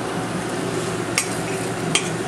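Panko lemon meatballs frying in oil in a pan on a hotplate over lower heat, a steady close sizzle throughout with two sharp utensil clinks against the pan.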